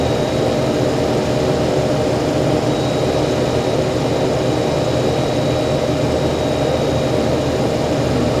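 A Fokker F27 propeller airliner in the Prepar3D flight simulator taxis toward the terminal, its engines producing a loud, constant droning roar with a faint high whine, steady throughout with no voices.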